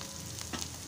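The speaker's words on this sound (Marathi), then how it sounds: "कांदा आणि मिरच्या छान भाजल्या गेलेल्या आहेत तेलामध्ये।" Onion and chillies fry in hot oil, a soft, steady sizzle with faint stirring, heard close and alone in a short burst.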